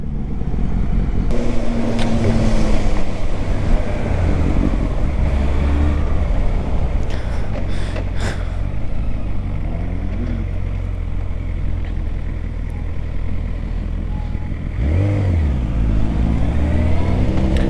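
A Moto Guzzi motorcycle engine roars loud and close in a steady, continuous drone, with rising and falling revs through the ride.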